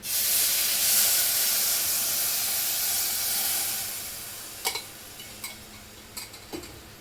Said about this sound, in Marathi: आपण आता याच्यामध्ये गुळाचं पाणी उकळून घेतलेलं ते टाकून घेऊया.